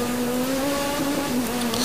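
A small 1600 cc rally car races flat out on a special stage of the Rally Vinho Madeira, its engine holding a steady high-pitched drone that swells toward the end, loud and close with no talk.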